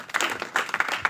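A church congregation breaks into a short burst of clapping and applause, several hands at once, lasting only about a second.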